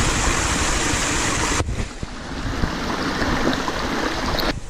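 Stream water rushes steadily at a mountain water source on the GR11 in Alta Garrotxa, a close, continuous broadband flow with a brief change in tone partway through and no voices.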